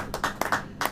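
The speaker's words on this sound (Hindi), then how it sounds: "ताली बजाइए।" A church congregation claps hands in a brief burst, a few quick, close claps in a loose rhythm.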